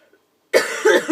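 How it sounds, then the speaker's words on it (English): A single harsh, loud cough from a sick man bursts out after a brief quiet moment, breaking into a couple of rough follow-up hacks close to the mic. "Sorry for the cough, guys, I'm really sick."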